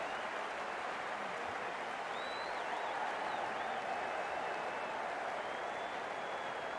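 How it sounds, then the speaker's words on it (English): A crowd at a cricket match cheers and applauds in a continuous, distant wash of noise, with a few faint whistles rising above the steady roar. "It's going to be hard for the bowler to focus with the crowd this excited"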